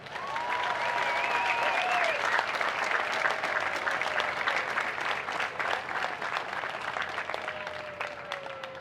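Crowd at a lobster festival coronation applauding and cheering for navy and marine service members, sustained dense clapping with whistles and a few shouts over it, gradually easing toward the end.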